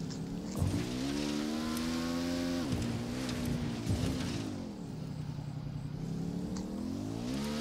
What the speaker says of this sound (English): This is probably the fastest vehicle in the game. That Lamborghini, that Lamborghini.